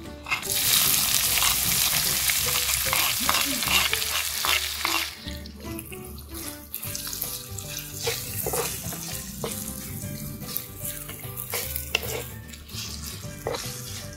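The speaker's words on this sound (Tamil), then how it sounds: "கொஞ்சம் பொன்னிறமாக வர வரைக்கும் வதக்கி விடணும்" Onions sizzle and fry in an oiled pan for a Tamil crab gravy. A loud, steady hiss is broken by frequent scrapes and clinks of a spatula against the pan.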